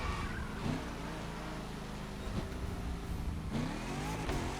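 A Corvette driving in the video game The Crew Motorfest, a steady engine drone with rising revs and pitch sweeps near the end, heard alone.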